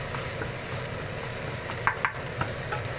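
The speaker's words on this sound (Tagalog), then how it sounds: "Pinapabrown na natin yung ating onions sa ating garlic. Kunting oil lang siya" Onions and garlic browning in a little oil in a pan, a steady close sizzle with a few sharp stirring clicks near the end, no voices.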